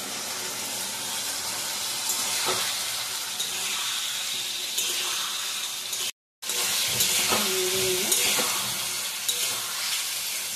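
Boiled paneer sizzles in a pan with soy, tomato and chilli sauces, a steady loud hiss that runs nearly unbroken apart from one brief dropout, with a few soft knocks of a utensil.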